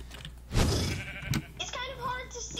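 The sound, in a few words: sheep bleating in Minecraft (Mineplex) video game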